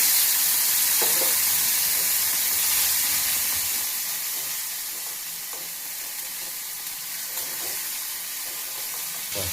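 Water splashed into a hot pan while cooking chilli baby corn, raising a loud, steady steam sizzle that hisses on and slowly eases, with no voices over it.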